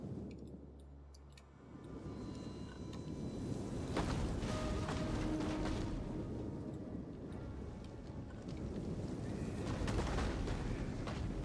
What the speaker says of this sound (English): I'm going to have my artillery fire on these guys, where I can probably do the most damage